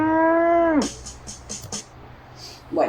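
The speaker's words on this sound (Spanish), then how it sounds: "La vaca hace mu." A cow gives one long, steady, close moo that ends abruptly, followed by brief rustling and a faint voice.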